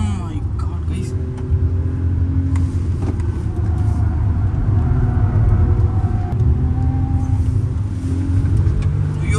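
A stock car engine rumbles at Kari Motor Speedway race track, a loud, steady low drone close by, with people talking over it.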